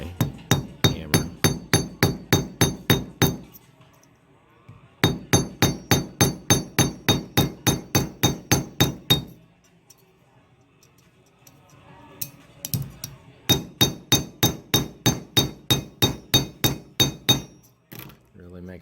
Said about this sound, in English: I'm going to push down tightly right here while I hammer.